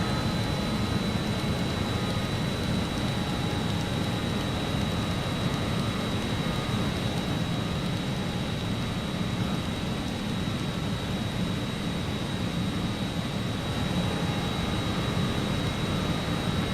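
Just Flight RJ100 jet engines at climb thrust in Microsoft Flight Simulator hold a steady, loud broadband roar with a thin high whine on top, continuous and unchanging, with no voices.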